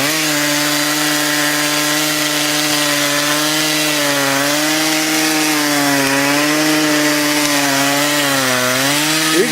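A chainsaw cutting a tree in 2007 holds a loud, sustained engine whine throughout, its pitch dipping and rising as the load on the blade changes.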